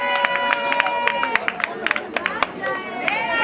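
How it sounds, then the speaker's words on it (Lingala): Wedding guests clap and cheer for the groom, a dense burst of sharp, uneven hand claps over crowd chatter and voices at a lively celebration. "Si nous pouvons acclamer très fort pour le marié,"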